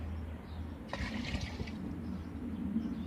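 Aphid pesticide solution is poured into a 16-litre pump sprayer tank, producing a short burst of gushing, splashing liquid that starts abruptly and fades within about a second over low background hum.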